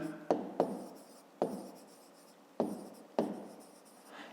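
A pen writes by hand on paper while working a fifth-grade math exercise, making several short, crisp scratching strokes, each starting sharply and trailing off, with brief pauses between them.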